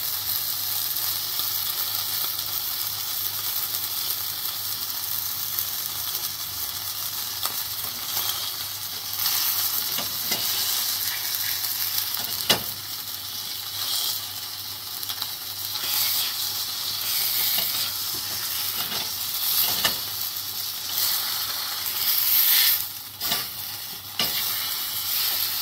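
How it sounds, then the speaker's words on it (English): Steak searing in a hot pan, a loud continuous sizzle and hiss lasting throughout, with occasional clinks and scrapes as it is moved, no talking. "pull that out. Do that sizzle."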